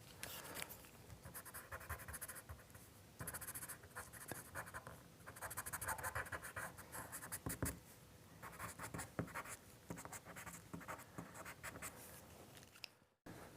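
Pastel pencils scratch and rub across paper while a waterfall is sketched, a close, quiet, continuous scraping broken by short pauses between strokes, with no talking.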